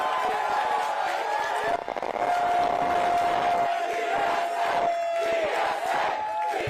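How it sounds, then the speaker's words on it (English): Rally crowd in New York City cheering, whooping and clapping, a loud roaring mass of voices with a sustained whistle-like tone and shouts rising and falling, some nearby talk mixed in. "let's hear a round of applause for New York City DSA!"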